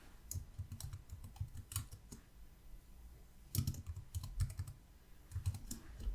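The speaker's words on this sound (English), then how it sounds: "So I'm going to create another text frame. And I'm going to type in Thomas Miller." Someone types on a computer keyboard in close, uneven bursts of clicky keystrokes separated by short pauses, with no talk.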